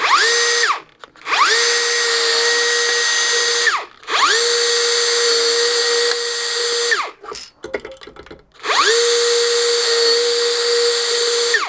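A power tool cuts through threaded steel studding in three loud, steady bursts of high-pitched whine, each spinning up, holding and winding down, with brief clatter between cuts and no talking.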